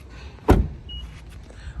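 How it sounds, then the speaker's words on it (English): The door of a 2022 Honda Insight Touring shuts with a single solid thump, close by, followed by a few faint clicks and quiet surroundings. "close the door"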